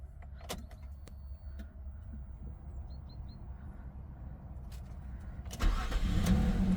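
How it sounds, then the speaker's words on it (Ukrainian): A Nissan Maxima engine cranks and catches, then settles into a low, steady idle, preceded by faint clicks and mechanical whirring inside the car. "Автомобіль заводиться з півоборота, працює рівно, стабільно, справно"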